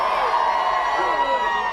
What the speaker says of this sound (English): an extra loud cheer for Raheem Sterling